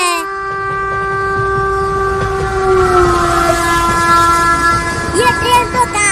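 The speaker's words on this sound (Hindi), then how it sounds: "वो देखो चिंटू, ट्रेन आ रही है।" A passenger train pulls in with a loud, sustained horn blaring close by, its steady tone holding for several seconds over rumbling rail noise and fading toward the end, with a few voices faintly underneath.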